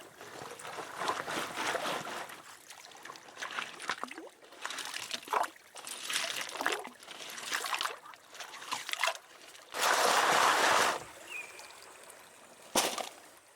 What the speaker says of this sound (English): So I'll pan this off,